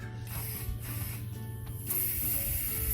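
A mini hand pump inflates a bicycle inner tube to about 50 PSI at the roadside on a gravel ride, with steady, rhythmic mechanical strokes and soft hissing close by.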